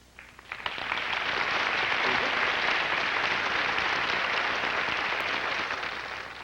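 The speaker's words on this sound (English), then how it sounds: "all of the girls have applauded all of you as you come up" Pageant contestants at the Miss Canada 1979 event clap together in sustained, dense applause that swells within the first second and holds steady before easing slightly at the end.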